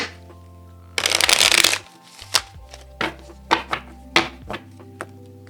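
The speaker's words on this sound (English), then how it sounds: "Let's do a traditional shuffle here." Tarot cards are riffled in a quick dense burst, then a string of separate soft slaps and taps as the deck is shuffled by hand, close up.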